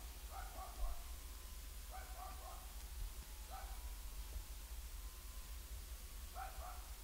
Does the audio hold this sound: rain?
no